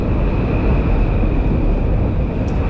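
A Metro-North M8 electric train passing at Harlem 125th Street station, with a dense, steady rumble and a sustained electric whine throughout. No one speaks.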